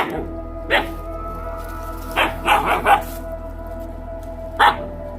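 Puppies fed raw Cornish game hen and shrimp let out a few short, sharp barks and yips spaced over several seconds above a low steady hum.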